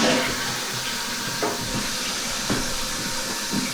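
Water rushes steadily as a TOTO Drake toilet tank refills after the supply valve is turned on, a close continuous hiss with faint clunks from the fill valve.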